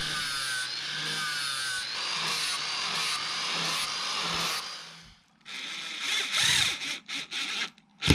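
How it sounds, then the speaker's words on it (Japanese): A power tool shaves wood at an angle on a timber sill being replaced in an old house, a loud steady whirring grind that cuts out, then resumes in short choppy bursts. "既存の土台と高さを合わせるために斜めにね、木を削っているんですけども"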